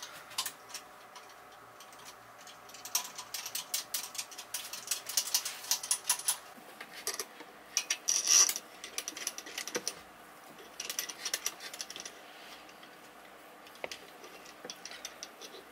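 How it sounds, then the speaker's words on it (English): Screws being hand-tightened while fitting a raised toilet seat, a run of small rapid ticks and clicks like a ratcheting screwdriver, faint and close, coming in bursts with short pauses. "And then screw the screws in, and then we put the white caps on afterwards."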